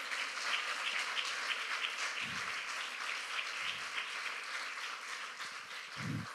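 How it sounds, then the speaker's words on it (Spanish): A church congregation applauds for the Lord, a steady, dense wash of clapping that carries on throughout, with a few low thumps along the way and no speech over it. "¿Cuánto le dan un fuerte aplauso al Señor?"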